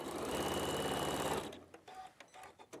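A sewing machine stitches fabric in a steady, loud mechanical whir for about a second and a half, then stops, leaving a few soft handling clicks and rustles.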